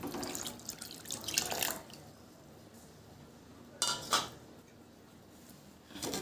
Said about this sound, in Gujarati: એક વાટકો અત્યારે પાણી ઉમેરીએ છીએ.